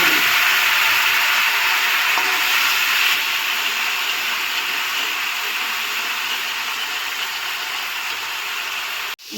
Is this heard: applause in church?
no